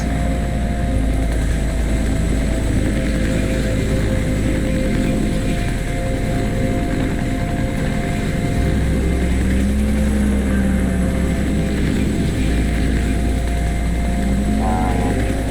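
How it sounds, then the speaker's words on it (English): Helicopter rotor noise from the game Cyberpunk 2077 throbs loudly and continuously overhead, a dense low whir with a faint tonal whine sweeping through, with no talking. "Ooh, helicopter."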